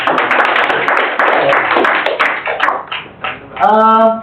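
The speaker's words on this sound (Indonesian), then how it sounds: "Tepuk tangan buat kita." An audience claps together after an Islamic talk in Indonesian: a few seconds of dense, close applause that thins out and stops, followed by a voice speaking.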